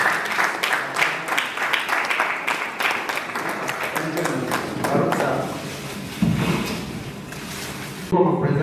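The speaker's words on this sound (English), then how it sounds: "Can we clap for him?" An audience at a forum on electoral integrity claps for an honoree, uneven clapping that thins out, followed by thumps and a voice starting to talk near the end.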